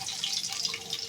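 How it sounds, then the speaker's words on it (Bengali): Garlic hits hot oil in a pan for a lentil dal with jute leaves, giving a bright, crackling sizzle that hisses steadily and close up for about a second, with no voices. "তেলের মধ্যে আমি দিয়ে দিচ্ছি প্রথমে রসুন"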